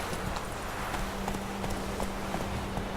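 Horse hooves clip-clop in a steady, rhythmic gait while riding through The Witcher 3 video game, the repeated beats sitting over a constant windy outdoor ambience with no talking.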